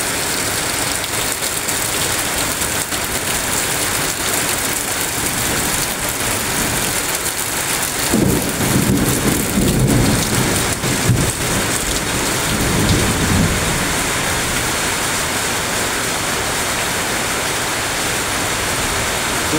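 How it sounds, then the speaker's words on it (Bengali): Heavy monsoon rain pours in a loud, steady roar while thunder rumbles for a few seconds in the middle, with no talking. "এই যে বৃষ্টি, কত জোর বৃষ্টি হচ্ছে।"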